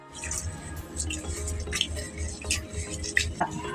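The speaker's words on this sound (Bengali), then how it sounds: "ডালটা ধুয়ে নিয়ে এসেছি, এখন আমি জলের মধ্যে দিয়ে দিচ্ছি।" Washed masoor lentils, about one and a half cups, tipped into a pot of water for boiling, giving soft wet drips and squishy splashes under a low steady hum, with a few brighter plops near the end.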